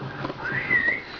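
A person whistles a short, clear note that slides upward and holds briefly, close and alone.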